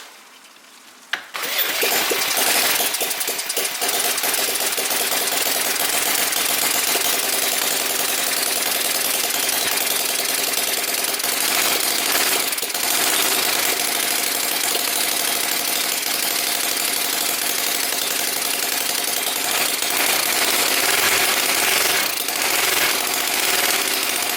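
A small flathead engine starts up and runs steadily with a fast, even chugging knock, close and loud, continuing without a break.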